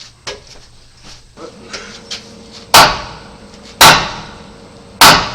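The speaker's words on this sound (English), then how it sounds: "You're most likely going to need to take the sledgehammer and tap it." Sledgehammer strikes on the steel frame of a 1982 Chevy C30 tow truck wrecker: lighter taps at first, then three loud, sharp, ringing blows about a second apart, close by.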